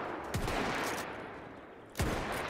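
Two sharp gunshots ring out in Mount & Blade Warband with the Parabellum mod, separated by about a second and a half over a constant roar of battle noise.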